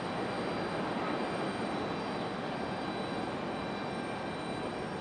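An Air Canada Embraer E175 jet arrives at Raleigh-Durham airport on a stormy day, its engines a steady, broad, distant roar that holds an even level throughout with no voices.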